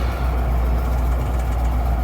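A 1972 Ford C600 cab-over truck with a 361 FT engine, running with power steering trouble, idles with a steady low rumbling drone, close and even, no voices.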